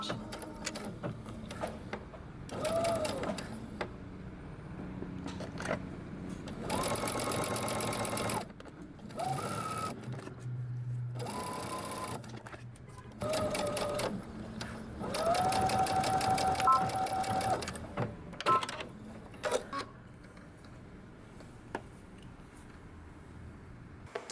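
A sewing machine stitches a dress seam in several bursts of rapid whirring, each separated by pauses. Quieter handling noises fill the pauses, and the longest run of stitching builds toward the end.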